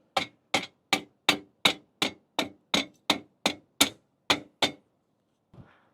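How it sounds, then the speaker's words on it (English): Rubber mallet tapping a solar panel mounting rail into place, a dozen crisp, evenly spaced knocks close by, steady and fairly loud, then a short pause and one softer final sound. "Use a little rubber mallet."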